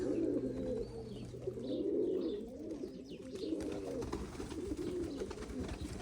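Pigeons coo continuously in low, rolling, throaty phrases, close and fairly loud, with several birds overlapping under faint background noise.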